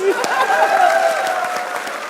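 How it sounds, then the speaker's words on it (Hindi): Applause from a crowd, steady clapping with voices layered over it throughout. "मोहम्मद आमिर के लिए तालियां।"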